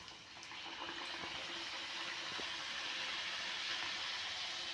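Puris sliding one by one into hot oil in a home kitchen make a steady, soft hiss and fizz of frying that holds throughout at low level.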